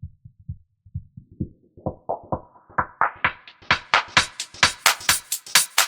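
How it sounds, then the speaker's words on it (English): A plucky synth pattern of short rhythmic notes in FL Studio, run through a low-pass filter, starting dull and muffled, then gradually opening up brighter and louder as the sequence continues. "So low pass sounds like this."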